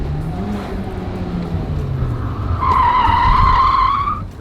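A sports car engine hums low, then surges into a sharp, high-pitched VTEC rev that climbs and holds for over a second before easing off.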